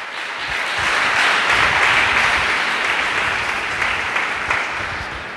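A church congregation claps together during a sermon, a dense, sustained burst of many hands that swells quickly, holds for several seconds and then begins to fade.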